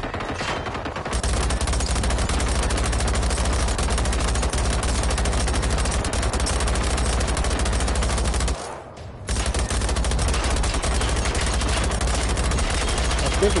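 Hunting rifle fire with soft point rounds during a fight against a Reaper machine in Generation Zero, a dense, continuous barrage of rapid shots, loud and close, with one brief gap midway.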